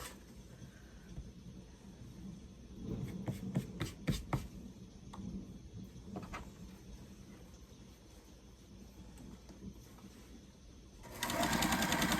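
A sewing machine stitches quilt pieces in bursts of rapid mechanical whirring, with louder runs in the middle and end, and pauses between them, in a quiet room with no talking.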